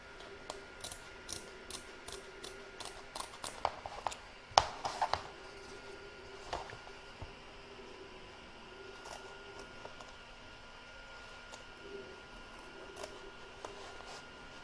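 Scissors snipping embroidery free from the hoop, a run of quiet, crisp cuts at first that thin out into sparse, faint clicks against a soft room hush.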